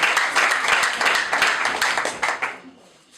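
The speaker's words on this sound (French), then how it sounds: "Si nous pouvons applaudir encore." An audience gives a short burst of applause at a farewell ceremony for a provincial education inspector, dense clapping that fades out over about three seconds.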